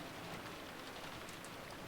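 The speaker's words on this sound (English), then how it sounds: "The unsettling sound of the wind had now blended in with the sound of rain" Rain and wind in the visual novel game Umineko When They Cry form a quiet, steady hiss of falling rain with no breaks.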